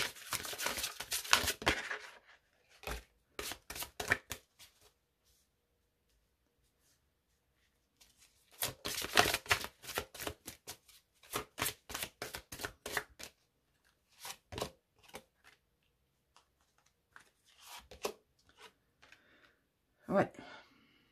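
Tarot cards being shuffled in quick riffling bursts of crisp flicks, with pauses between bursts and no talk over them.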